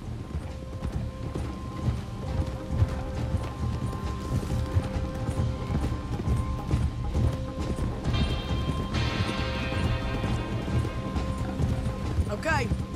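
Horses' hooves clip-clopping in Red Dead Redemption 2 as riders approach a bridge, a steady rhythmic patter under game ambience, with a horse whinny and some mechanical clatter nearby.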